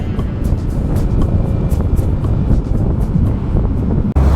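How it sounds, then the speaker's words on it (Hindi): Heavy wind buffeting roars at the microphone while a Yamaha R15 motorcycle is ridden along a road near Rishikesh, a loud, constant rumbling rush with no speech. "काफ़ी देर से बाइक चला रहा हूँ"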